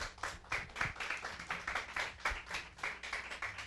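A church congregation claps in a steady, rhythmic beat, loud and close, with no talking over it.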